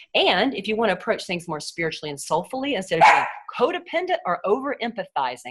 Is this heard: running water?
no